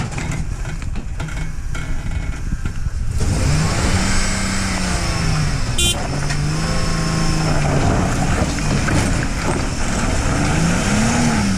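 An off-road vehicle crawls through rough terrain at Escondido Draw, its mid-pitched engine revving up and down in steady bursts, close and loud, with a brief sharp knock partway through.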